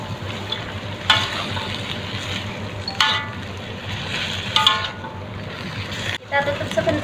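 Mustard greens hit a hot wok while vegetables for a fried capcay stir-fry sizzle continuously; scraping stirs and spatula clanks punctuate the frying at intervals, with a voice talking faintly underneath.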